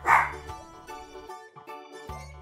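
A cartoon dog barks during a bath in a pet shop, with a loud opening yelp followed by several shorter, softer yips and whimpers in quick succession.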